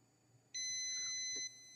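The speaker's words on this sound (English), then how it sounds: "whenever I touch the probes together, it beeps" A steady electronic beep from a multimeter continuity test, high and clear, sounds for about a second before cutting off, with a faint hum underneath.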